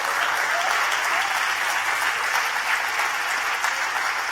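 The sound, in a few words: congregation applause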